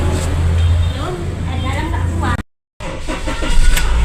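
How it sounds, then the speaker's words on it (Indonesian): Car engine idling while warming up in a dim garage, a steady low rumble running close under someone talking, briefly cut by a moment of silence. "sambil manasi mobil kita ya"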